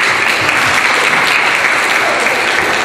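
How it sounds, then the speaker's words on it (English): An audience at a live event bursts into dense, steady applause, loud and continuous throughout with no talk. "Let's hear it for Ruth Vernon"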